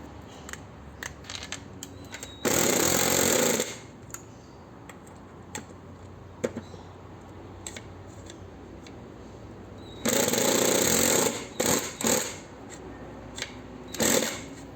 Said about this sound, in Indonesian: kita coba pakai impact driver yang RPM-nya lebih tinggi